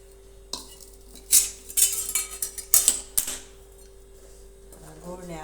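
Chopped jaggery drops into a hot kadhai with a few scraping, clattering knocks of metal and a spoon, bunched in short bursts over a steady low hum.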